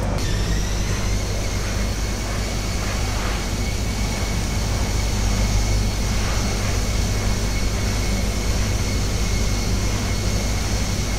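Airbus A320 jet engines heard from an outside view in Flight Simulator X, a steady loud roar and hiss with high whining tones that holds throughout, no talking.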